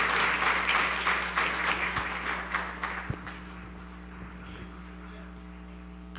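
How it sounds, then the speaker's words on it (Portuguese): A congregation applauds Jesus at a solemn evangelical church ceremony in Feira de Santana, with loud, dense clapping that slowly thins out and fades to scattered claps over a steady low hum. "dê um aplauso para Jesus"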